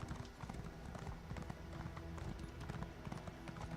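Horse hooves clip-clop in a steady trotting rhythm inside the Elder Scrolls Online video game, close and continuous over soft game ambience.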